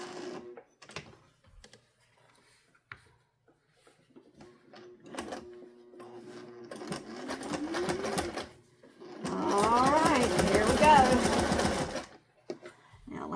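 A sewing machine stitches a pot holder in short runs and then a longer fast burst of rapid needle clatter, close by, with people talking between the stitching.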